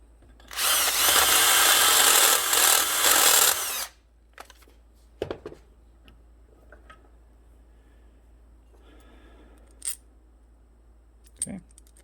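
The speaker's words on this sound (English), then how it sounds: "You don't need to see me struggle drilling a hole." Power drill boring a hole through a car's hood hinge mount, a loud continuous whine lasting about three seconds, then stopping, followed by a few faint clinks and small taps in near silence.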